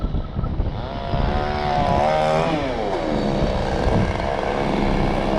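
A chainsaw cuts down an apricot tree outdoors, its engine droning loud and continuous with rising and falling pitch as the blade works through the wood, alongside a tractor engine running steadily nearby.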